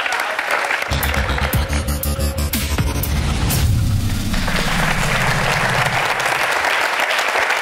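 Studio audience at a Tunisian television game show bursting into loud, sustained applause, dense clapping that swells and continues at full strength for several seconds.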